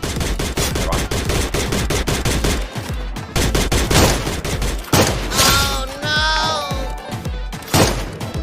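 Loud, rapid gunfire bursts from the video game Free Fire, with dense repeated shots running almost continuously, a short pause midway, and some electronic tones from the game layered in.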